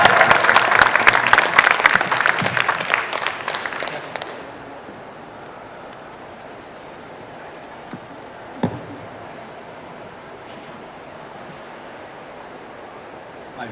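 Crowd applause at a Star Trek convention press conference in Birmingham, loud dense clapping for about four seconds that then stops abruptly, leaving quiet room tone with a single brief knock later.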